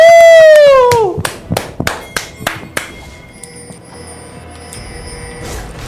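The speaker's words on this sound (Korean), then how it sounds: "박수 한번 칠까요?" A short run of about six or seven sharp hand claps, spaced fairly evenly and fairly close, during a Korean League of Legends game commentary. A sustained vocal tone comes just before them, and faint background sound follows.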